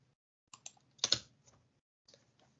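Computer keyboard typing a short greeting, a handful of quick close keystrokes in two small bursts, one clack louder than the rest, otherwise quiet.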